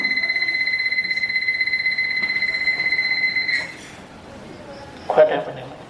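A high electronic alarm beeps rapidly and continuously for several seconds, then cuts off, followed by a brief clatter.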